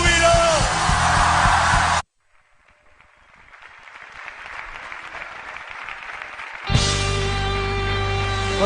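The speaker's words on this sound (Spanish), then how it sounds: "Pueden dar un grito de júbilo." A church congregation at a Spanish-language service shouts for joy, crowd yells and cheers swelling from a soft murmur to a loud roar, set between bursts of loud music.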